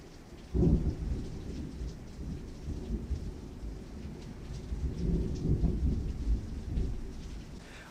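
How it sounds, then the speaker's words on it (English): A tropical storm rages outdoors, with steady heavy rain drumming on surfaces and low rumbles of thunder rolling through several times, loud and close, with no voices. "There's probably going to be very, very audible storm noises."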